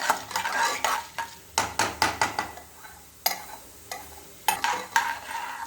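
Urad dal stirred and fried in a pan for beetroot chutney, with a series of sharp spoon scrapes and clinks in uneven bursts over a light sizzle, close and alone.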